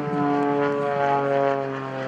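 Aerobatic propeller airplane with a Lycoming engine powering up after a tail slide at an airshow, a loud steady droning engine roar with strong harmonic tones, sustained close and continuous without talk.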